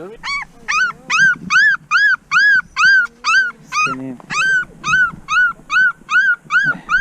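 Abandoned puppies dumped in a forest near towns in Israel, yipping and whimpering in a steady run of sharp, high cries, with a brief voice in between.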